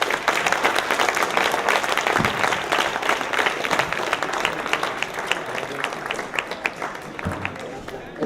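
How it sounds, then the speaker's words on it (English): Audience applause fills the room after a university science talk on neurobiology and psychiatry, a loud, dense, steady clapping that runs throughout with a few scattered louder claps. "And a big applause for Jan Swinkels, Paul Lucassen, Chris Kruse"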